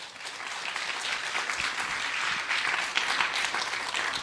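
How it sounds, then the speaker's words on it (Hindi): An audience at a sales meeting breaks into dense, sustained applause, many hands clapping together close by at an even level throughout. "एक ताली हो जाए सर के लिए।"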